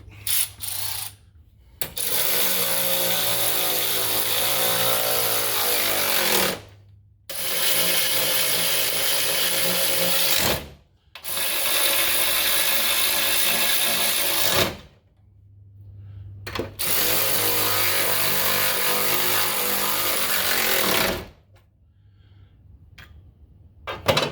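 A battery-powered impact tool tightens bolts on a hidden winch mount for a RAM TRX, firing in four long loud buzzing bursts separated by short pauses.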